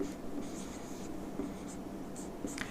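Pen or marker writing out a Class 10 geometry solution on the Pythagoras theorem, a steady soft scratching that runs through the whole stretch at close range, with short squeaky strokes rising above it now and then.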